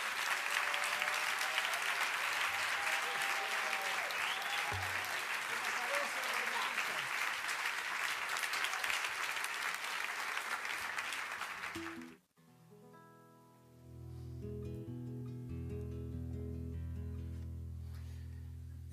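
A live audience at an improvised décima poetry show gives loud, sustained applause for improviser Alexis Díaz Pimienta, a dense, even roar of clapping that cuts off abruptly and gives way to music.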